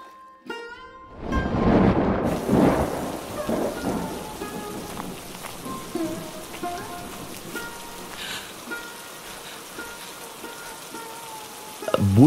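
Heavy rain falls steadily on surfaces in a stormy scene, with a loud roll of thunder early on and then continuous close patter throughout.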